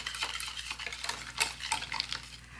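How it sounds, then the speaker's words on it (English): Gelatine is stirred into cherry preserve, a run of quiet wet scrapes and light clinks of a utensil against the bowl, close and soft with no talking. "I'm mixing the gelatine into the cherry preservative that I have here."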